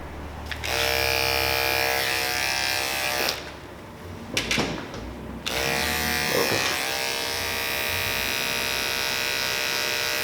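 Electric hair clippers fitted with an OA detachable blade buzz steadily while cutting a bald fade, a close, loud, even drone that cuts out briefly in the middle and then resumes.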